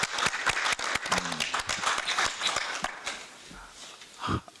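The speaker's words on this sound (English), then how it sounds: "Please, may we applaud them" Applause for the Tanzania delegation at a session of an African children's rights committee, a short burst of scattered clapping from a modest audience in a meeting hall, fading out with faint room noise.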